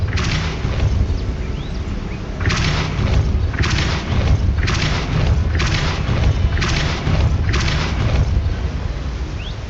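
Repeated Depulso force-push spells cast in the Hogwarts Legacy video game, six loud booming bursts in a steady rhythm, each a short whooshing thud over a continuous low rumble of game ambience.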